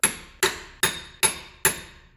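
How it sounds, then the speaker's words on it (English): A hammer strikes a chisel five times in a steady rhythm, each sharp metallic blow ringing briefly, while staking the axle hub nut on a 2011 Subaru Outback 2.5 during a wheel bearing and hub replacement. "grab yourself a chisel and a hammer"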